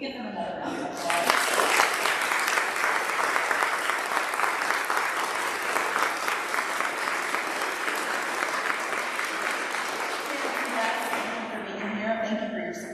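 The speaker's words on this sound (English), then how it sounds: "Can we give them another round of applause?" Sustained audience applause at a school event following eighth grade student speeches, loud and dense clapping filling the room steadily from start to finish without talk.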